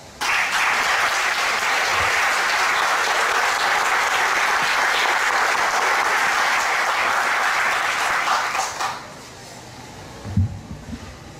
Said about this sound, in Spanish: Les pido al público que les recibamos con un fuerte aplauso.